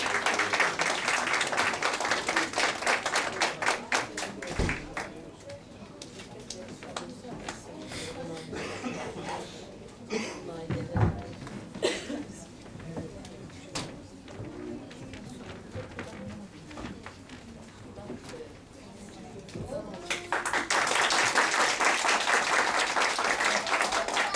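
An audience at a piano festival applauds steadily as a pianist is welcomed to the stage, the dense clapping running continuously, dipping slightly in the middle and swelling again toward the end.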